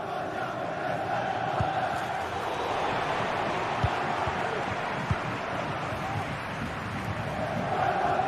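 Steady, dense roar of a football stadium crowd in a video game, sustained at even loudness throughout with a few brief thumps over the top.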